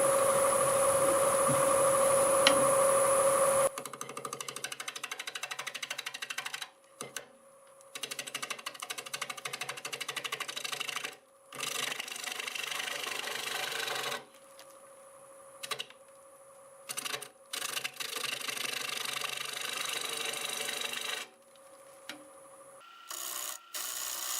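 Wood lathe spinning at 750 RPM while a 5/8 bowl gouge flattens the top of a turned piece, a steady whirring hum broken by repeated scraping cuts that stop and start.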